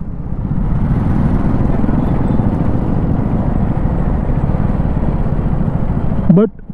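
A Husqvarna Vitpilen 250 motorcycle is ridden through city streets: a steady, loud engine drone mixed with wind rush runs throughout, with a short rising whine right at the end.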